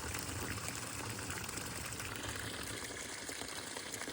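Iron-rich well water gushes steadily out of a sprinkler system pipe, making a continuous hissing, splashing rush at moderate level with no speech.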